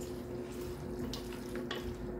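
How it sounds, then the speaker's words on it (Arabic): Hot water pours into a cooking pot for a Moroccan taqliya, or dwara, dish, a steady close gushing stream that continues evenly throughout with no talking. "غادي ندير فيها الماء سخون، المهم انا غادي ندير فيها يطرو ديال الماء"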